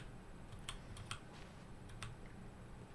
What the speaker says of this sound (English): I love the clicking when you click shit.